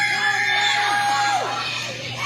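A backyard wrestling crowd cheering and yelling, with high-pitched shouts and whoops rising over a steady hum of noise at a lively, moderately close event.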